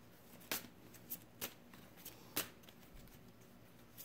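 Playing cards are shuffled by hand, with a handful of crisp riffling bursts spread unevenly over a few seconds against quiet room tone and no speech.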